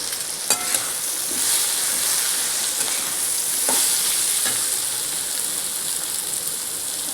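Cumin seeds sizzle in hot oil in a pan for Sunday egg curry, a steady close crackling hiss with a few sharp pops near the start.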